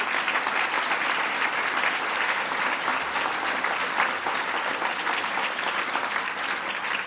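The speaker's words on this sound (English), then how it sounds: "Can I have a round of applause, please," An audience at a State of the State business address in Victoria applauds the Premier, a dense, sustained round of clapping from a large crowd, loud and even throughout without pause.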